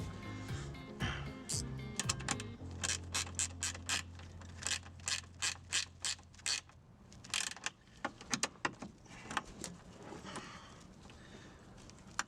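A ratchet wrench tightens the fitting on an RV black and gray waste valve, producing a run of quick, close clicks in uneven bursts, with some creaking and scraping of the parts.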